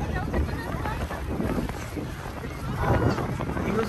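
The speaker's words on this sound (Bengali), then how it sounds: "মোর ক্যামেরায় মনে বাতাস শো শো করতেছে" Wind buffets a camera microphone outdoors on Toronto Island beside the water, making a steady, loud rumbling roar that swells near the end, with faint voices underneath.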